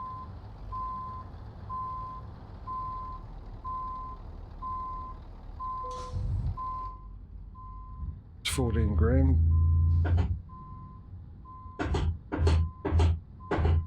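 Simulated truck reversal alarm from Euro Truck Simulator 2, a steady evenly spaced run of beeps continuing throughout, with someone talking over it and bursts of louder game noise and thumps in the second half.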